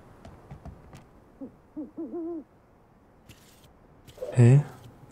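Owl hooting in the video game Never Alone: a few soft wavering hoots rise and fall in the middle, then one louder, closer hoot near the end over quiet game ambience.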